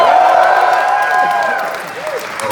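An audience at a Jay and Silent Bob Reboot screening in Montreal with Kevin Smith applauds and cheers as Dante Hicks from Clerks appears on screen. The clapping is broad and sustained, with whoops over it, and it eases slightly toward the end.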